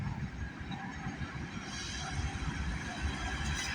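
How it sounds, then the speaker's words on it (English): A CN westbound freight train hauling potash passes on a rainy morning, a continuous loud rumble of rolling cars with wheel noise and faint squeal, close and steady with no voices. "we got a CN westbound train coming down the line"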